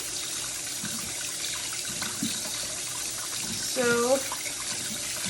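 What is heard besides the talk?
rinsing items under cold running tap water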